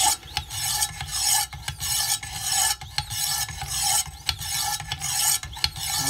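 Wicked Edge WE130 sharpener stones stroked along knife blades, a steady rhythm of gritty rasping strokes, about a dozen in six seconds, close and fairly loud with short gaps between passes.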